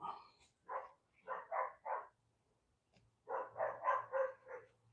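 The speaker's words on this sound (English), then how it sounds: "Damn, that dog will be quiet, boy." A dog barks in two bursts, about four sharp barks then a pause and five more, moderately close, with a low steady hum underneath, at a workshop.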